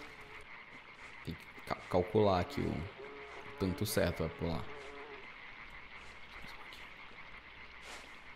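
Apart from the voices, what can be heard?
frogs croaking in the video game LIMBO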